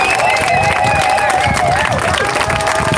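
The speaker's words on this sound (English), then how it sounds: "Let's give a round of applause for all of our speakers." Outdoor rally crowd at a Colorado climate event applauding speakers, continuous dense clapping with cheers and whoops layered over crowd hubbub, loud and sustained.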